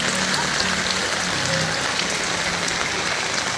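Steady rain pours down near a flooded house, knee-deep water all around, a dense continuous hiss with no talk heard.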